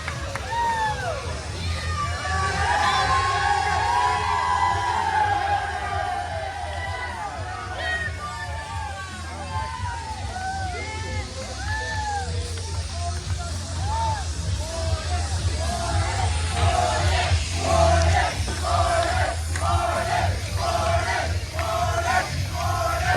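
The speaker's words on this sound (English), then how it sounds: "The fans in attendance cheering for Warden" Wrestling fans cheer for the wrestler Warden inside Southern Brewing Company in Athens, Georgia, a steady crowd roar and babble with scattered shouts running throughout and building with rhythmic cheering near the end.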